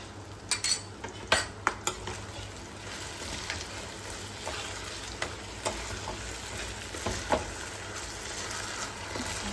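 Cornflour slurry being stirred into creamy chilli prawns frying in a pan, a continuous sizzle punctuated by sharp spoon-on-pan clinks and scrapes, close and fairly loud, no talking.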